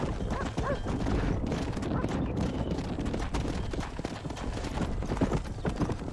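Horse hooves clip-clop steadily in the Western video game Red Dead Redemption, a continuous trotting rhythm up close, with faint ambient game sound and a possible whinny.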